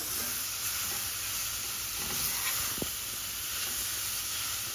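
Chakalaka sizzling and frying steadily in a pan while being stirred, a continuous close hiss with a brief scrape of the spoon partway through.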